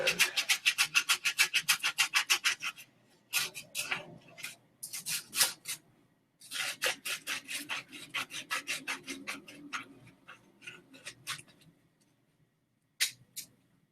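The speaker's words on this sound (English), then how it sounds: "Sometimes the smaller they are, the easier they are to sand." Small wooden wand being hand-sanded, with rapid rhythmic rasping strokes close up, coming in bursts separated by short pauses, loud and crisp and with no voices.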